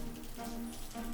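Steady rain falling outdoors in The Stanley Parable, a soft continuous patter with a faint low tonal hum running underneath throughout, no voices.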